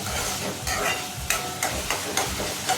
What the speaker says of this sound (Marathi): आणि कांदा मूसर आणि थोडा लालसर होईपर्यंत आपल्याला मिक्स करून घ्यायचे